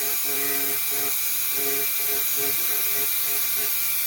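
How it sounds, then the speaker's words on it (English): Dremel rotary tool fitted with a diamond burr carving wood for an eagle cane, a steady high-pitched motor whine running continuously with pulsing tonal bands as the burr bites in and eases off. "all you're doing is replacing the sanding stick with the diamond burr."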